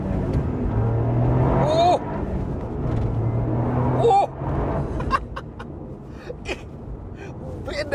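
Toyota GR Yaris engine pulling hard in first gear, its revs climbing then dropping sharply twice as the throttle lifts, heard from inside the car with a person talking over it.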